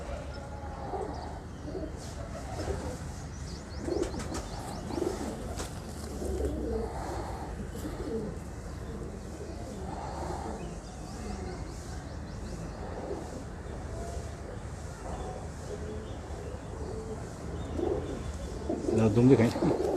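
A breeder pair of pigeons coos in repeated soft, low phrases at close range, with faint chirps and background noise, while people talk over and between the calls.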